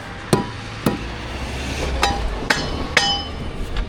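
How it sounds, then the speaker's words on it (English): A brick hammer strikes brick five times on a bricklaying site where a plot is being readied for roof trusses, giving sharp ringing knocks about half a second apart over low outdoor background noise. "My brick hammer's down there."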